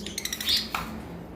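Lovebirds in a bird shop give a couple of brief, sharp chirps close by, over a faint steady background hum.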